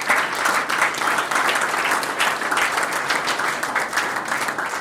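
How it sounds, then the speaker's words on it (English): An audience at an awards night claps steadily for a player, a loud sustained round of applause with no break. "Patrick, give Phoenix a big round of applause."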